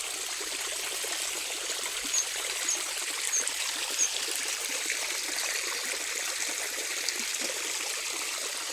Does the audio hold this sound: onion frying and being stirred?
no